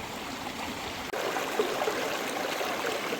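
Water rushes steadily through a gold sluice box beside a stream, a constant close trickling wash with a brief dip partway through, no voices.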